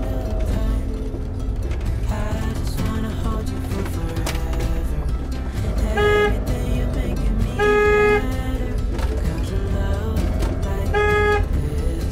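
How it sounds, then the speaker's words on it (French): Cars on a narrow road in Corsica, heard over a constant loud engine rumble, with several short horn toots sounding at intervals. "Ah, il y a des voitures là."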